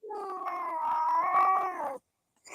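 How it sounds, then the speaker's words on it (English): A cat lets out one long, loud, wavering meow-caterwaul lasting about two seconds, close by, followed by a brief silence and the start of another sound, with no talking. "Somebody's cat needs a little something."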